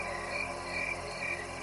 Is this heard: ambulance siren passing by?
no